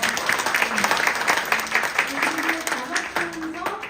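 Audience applause for a professor at a human library book concert, a crowd clapping steadily while a voice speaks over it throughout.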